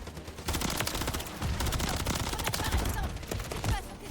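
Rapid bursts of automatic gunfire from Call of Duty Modern Warfare 3, loud and near, firing in a sustained chattering stream with brief gaps across the whole stretch.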